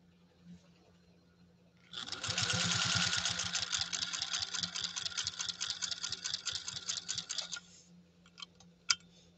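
A vintage Singer 201-2 sewing machine runs for about six seconds of even, fast stitching with a steady mechanical whir and clatter, close by, then stops, followed by a few faint clicks.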